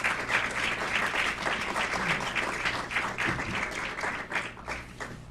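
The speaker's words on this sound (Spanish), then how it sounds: "Démosle por favor una bienvenida," An audience gives sustained, dense applause to welcome panel guests at a conference on consumers and crisis, many hands clapping evenly throughout with a faint murmur beneath.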